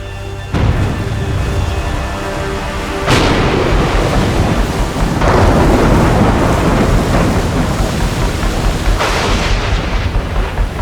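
A loud thunderstorm: heavy rain roars steadily while deep thunder rumbles swell and crack several times, close and powerful.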